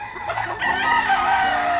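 Rooster heard at close range: a loud crowing and clucking call that rises and holds for nearly two seconds over a background of farmyard noise.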